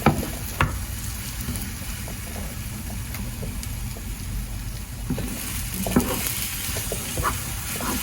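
An egg fries in a pot on an electric stove, a steady soft sizzle running throughout with occasional scraping and stirring taps as the egg is pushed around; no talking.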